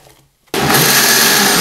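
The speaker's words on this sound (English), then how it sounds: "We're just going to go ahead and add that to the blender." A kitchen blender kicks on abruptly after a brief quiet moment and roars loudly and steadily, pureeing chopped coconut with cucumber for a creamy raw soup base.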